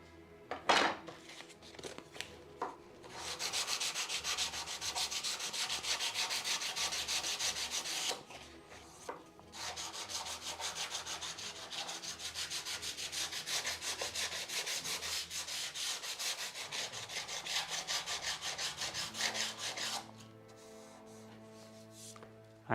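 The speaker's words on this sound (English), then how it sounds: "I'm sanding not completely off, but just smoothing the first coat of primer" Steady scratchy sanding on a primed wooden door architrave, smoothing the first coat of primer: a continuous rasping rub that runs for a long stretch, then stops and leaves faint tones behind.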